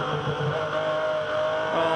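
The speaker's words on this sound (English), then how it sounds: "that six-cylinder. She's humming." Six-cylinder Touring Car Masters race car engine with carburettors at Hidden Valley, holding a steady, close, droning hum under the bonnet with a sustained tonal whine, brief and alone without speech.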